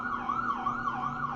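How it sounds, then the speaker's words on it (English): An emergency vehicle siren wails steadily, rising and falling in a smooth repeating cycle, heard on its own at moderate distance with no voices over it. "sorry, there's a siren."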